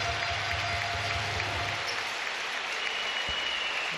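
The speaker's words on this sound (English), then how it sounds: "Vasiljevic goes off to warm applause." Warm, sustained applause from a large crowd at the men's basketball bronze medal game of the 2019 Napoli Universiade, even and continuous, with a faint low hum underneath early on.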